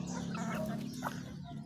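Chickens cluck softly while pecking at their feed, a low steady flock murmur with a brief louder call near the middle, close by and continuous.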